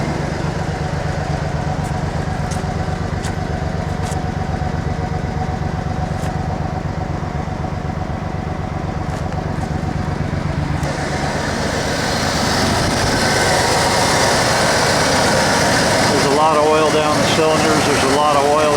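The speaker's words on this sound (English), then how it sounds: "it's been running now for about 1 or 2 minutes" A Ford F150 inline-six idles in a steady, even hum while oil-fouled and smoking heavily from the exhaust. The rumble grows rougher and noisier toward the end.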